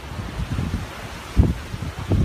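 Strong wind gusts outdoors with a rushing, buffeting roar and bursts of low thumping against the microphone, steady and fairly loud with no talk.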